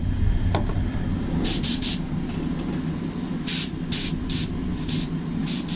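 Short bursts of airbrush spray misting moss green paint over a fishing bait, several distinct hissing puffs of a second or less each, close and clear over a steady low compressor-like background rumble.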